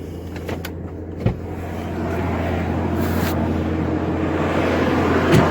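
A 1998 Toyota's engine catches and settles into a steady idle, a low continuous rumble that builds after a brief starting click and holds evenly, with a faint knock near the end.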